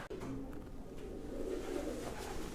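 Pigeons coo steadily inside an abandoned building with a huge skylight, a continuous soft murmur of several birds close by and no talk.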